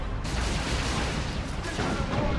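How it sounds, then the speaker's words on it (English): Autocannons fire in a Warhammer 40k video game as a dense, rolling barrage of heavy booming shots, loud and continuous with a few sharper cracks standing out. "I actually love the sound of autocannons. They sound so satisfying when they fire."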